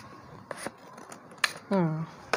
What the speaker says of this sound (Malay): rasanya tajam juga gunting ni